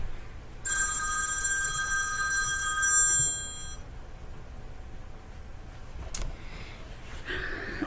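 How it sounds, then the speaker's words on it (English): A telephone rings indoors with a bright electronic trill that repeats for about three seconds and then stops, followed by quieter room noise and a brief rustle. "I've been getting prank phone calls today"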